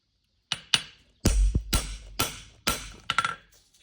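A blacksmith's hammer strikes metal about eight times at an uneven pace. The blows ring sharply up close, some landing alone and a few in quick pairs, with short gaps of quiet between them.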